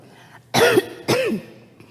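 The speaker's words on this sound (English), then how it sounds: "My cough seems to be getting better." Two short, sharp coughs about half a second apart, close and clear over faint room tone, with no speech.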